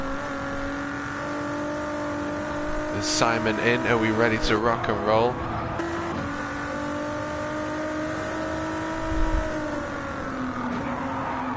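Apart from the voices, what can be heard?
V6 race car engine revving in a racing video game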